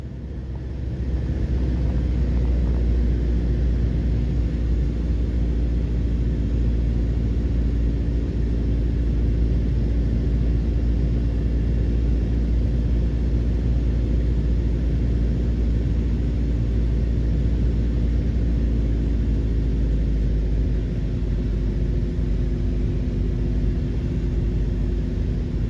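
A small airplane flies into Orillia Airport, heard from inside the cabin as a steady, loud engine drone and rumble that holds unbroken throughout with no talk.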